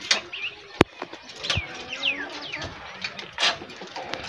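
Pigeons, males and females, coo softly at close range, mixed with fluttery calls, a sharp click, and brief rustling, with no clear talking.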